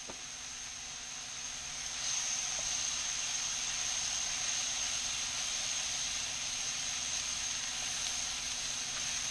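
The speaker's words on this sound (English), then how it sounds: "I'll go ahead and put my onions in." Onions sizzle in oil and butter in a pan for beef stroganoff, a steady, quiet hiss that grows a little louder after the first couple of seconds and then holds even.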